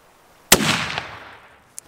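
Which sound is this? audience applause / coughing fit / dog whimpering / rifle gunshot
rifle gunshot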